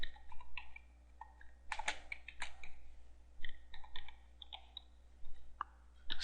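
Computer keyboard typing in short bursts of crisp key clicks with small pauses between words, close and fairly quiet, with no voices.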